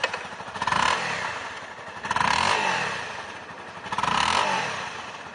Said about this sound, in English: I'm going to fire it up for you so you can see how she sounds.